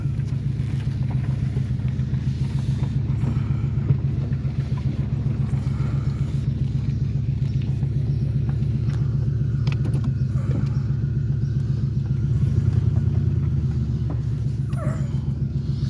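A 1969 Ford Mustang Mach 1 runs outdoors, its engine a steady, throbbing low rumble that holds a constant idle-like pulse, swelling briefly louder near the end, with faint rustles and no speech.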